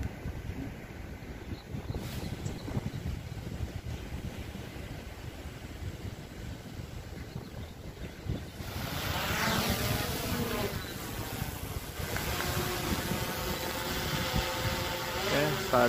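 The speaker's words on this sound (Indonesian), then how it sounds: "drone sudah menyala, sahabat." A DJI drone powers up and flies with its motors running. A steady broadband whir turns into a rising, whining motor hum partway through, heard up close outdoors.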